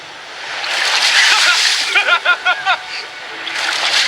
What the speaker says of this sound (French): Ces vagues ont vraiment l'air très grosses là-bas et elles viennent droit sur nous.